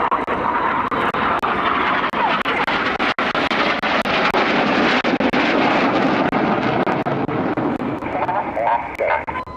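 Red Arrows jets roar overhead during an opposition barrel roll at an air display, a loud continuous broadband engine rush that swells and fades, with a commentator talking over it.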